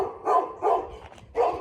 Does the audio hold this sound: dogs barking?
yes